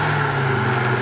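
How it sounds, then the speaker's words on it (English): Steady, close engine drone from a Volvo C30 T5 with its turbocharged five-cylinder, a continuous low hum with a faint whistle of boost on top, no speech. "on top of that amazing 5-cylinder sound, you get the boost, all the boost noises"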